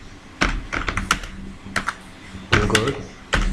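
Fingers type on a computer keyboard in short, irregular bursts of crisp, close keystrokes, with brief pauses between clusters and a few heavier taps.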